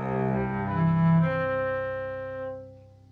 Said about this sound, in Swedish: Och cellon har ganska mörka toner.